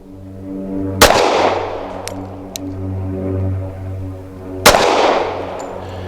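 Two sharp, loud pistol shots from a Tisas Night Stalker 1911, about four seconds apart, each ringing out over a steady low hum at an outdoor range, with faint distant pops between.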